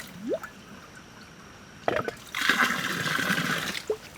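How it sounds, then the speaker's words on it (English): Water poured from a fish-shaped gurgle jug in short bursts with hollow glugs and gurgles, then a longer splashing pour, close and fairly quiet, ending with a final gurgle. "They make cool sounds when you pour water."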